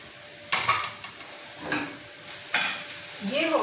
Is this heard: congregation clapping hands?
no